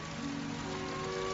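Rain falls steadily in a movie scene where a couple kisses while soaking wet, a faint even hiss of drops with a low tonal hum beneath and no talking.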